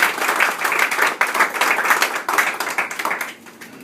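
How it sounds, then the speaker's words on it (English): A room full of people at a retirement party applauding, steady dense clapping that tapers off toward the end. "Another round of applause."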